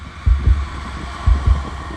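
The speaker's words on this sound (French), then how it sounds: "Ce sont ses battements de cœur." An anime-style heartbeat effect thuds in two close double beats, lub-dub pairs, loud and low, with a steady hum beneath and no speech.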